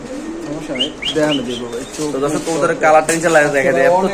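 Black Lahori pigeons cooing and chirping close by amid someone talking, with short rising calls breaking through the speech.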